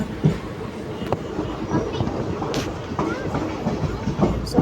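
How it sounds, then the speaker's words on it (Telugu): The 17644 Circar Express passenger train from Kakinada to Chengalpattu runs on rails: a steady rumble heard from on board, with irregular wheel clicks and rattles throughout. "సో ట్రైన్ అయితే మెయిన్ లైన్ మీదకి అయితే ఎక్కేస్తుంది."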